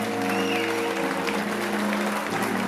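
Wedding guests break into loud, dense applause for the bride Valya. Many hands clap close together and keep up a constant wash under a sustained musical tone from the hall.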